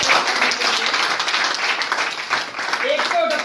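Loud audience applause during a business plan presentation, steady broadband clapping filling the whole stretch with a voice briefly audible under it.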